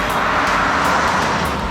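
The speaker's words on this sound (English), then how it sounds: "I think I'll wait for that car." A car drives past on a road, a brief loud broadband whoosh of engine and tire noise passing close by.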